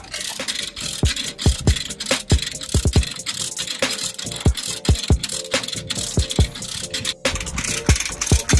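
Diesel engine for the vessel MV Victor running, a steady mechanical rumble broken by repeated sharp knocks and rattles in an uneven rhythm, close and fairly loud with no talking.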